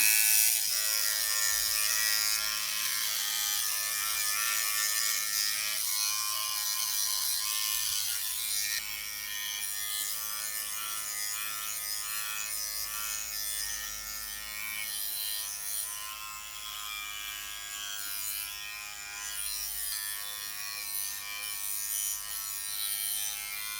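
A Philips Body Groomer 3000 electric trimmer shaving body hair runs continuously at close range, a steady high-pitched buzzing whir with slight shifts in load as it moves over the skin and hair.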